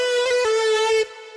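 Bright Serum synth patch modeled on the lead from a pop song, finished with OTT compression and light EQ: a sustained, harmonically rich tone with short pitch blips, held about a second before cutting to a quieter tail, alone.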